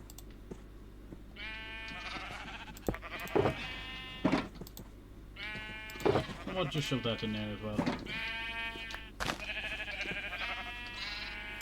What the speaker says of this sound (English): Forgot I was about to go shear that sheep there